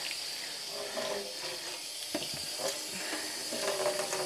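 Walnut-dyed fabric is sloshed and rinsed in a basin of water, giving soft continuous splashing and trickling with occasional small knocks, close and fairly quiet.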